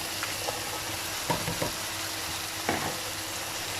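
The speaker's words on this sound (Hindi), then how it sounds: "इसे मसाले के साथ बहुत अच्छे से हम लोग मिक्स कर लेंगे" Fried arbi (taro root) being stirred into masala in a pan, a quiet steady sizzle with a few soft scraping spatula strokes.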